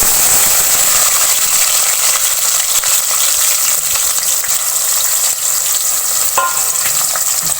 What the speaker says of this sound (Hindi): अब प्याज को मैं ब्राउन कर लूँगी।